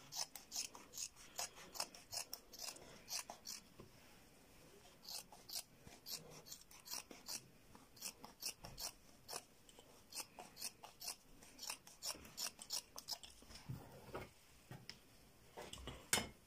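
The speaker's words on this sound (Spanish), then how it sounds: "Cuando ya tenemos marcadas con nuestra tijera, vamos a ir cortando las tiras, uniendo las marcas que ya realizamos." Scissors snip through strips of fabric being cut for a bed throw, giving a steady run of crisp, close rasping cuts in quick repeated bursts with no talking.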